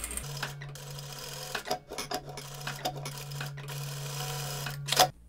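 A sewing machine stitches the seam of a hospital surgical uniform, a steady low motor hum running for several seconds under intermittent clicks and fabric rubbing, quiet and close.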